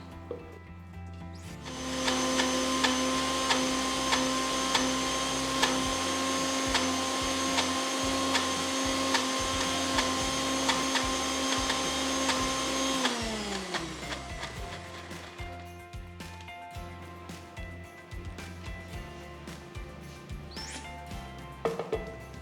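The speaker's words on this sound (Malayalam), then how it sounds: "ആദ്യം ഉഴുന്ന് തന്നെ നമുക്കൊന്ന് അരച്ചെടുക്കാം." A mixer grinder runs loud and steady, grinding a small batch of soaked urad dal with water for pulichappam. The motor whine holds for about eleven seconds, then winds down into rattling, scraping and tapping of the jar.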